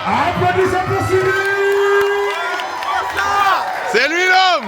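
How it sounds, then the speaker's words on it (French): A wedding-party crowd cheers, whoops and claps for Cyril, loud and sustained with shouting voices and music underneath, swelling again into a burst of whoops near the end. "Applaudissez pour Cyril"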